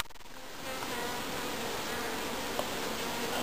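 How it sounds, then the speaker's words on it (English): A swarm of bees around a hand and branch, a dense, continuous buzzing drone heard close and steady, swelling slightly as it goes on, with no talk. "Ah, look at bees."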